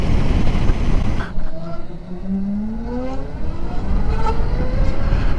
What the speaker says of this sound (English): You do get a little bit of a whine just as the bike starts to spool up, but then it drops away and all you can hear is the wind noise then